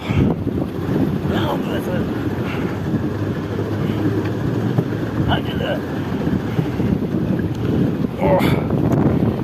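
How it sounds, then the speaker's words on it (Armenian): Steady low rumble of water and wind around a small boat, with occasional splashes and knocks suggesting oar strokes, and faint voices in the background. "միայնակ բավականին դժվար է քշել այս նավակը"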